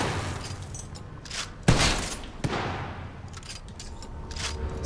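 Firecracker-style gun in the video game Titanfall 2, heard as a dense, noisy stretch of combat with one sharp, loud burst followed by a second smaller crack and scattered pops underneath.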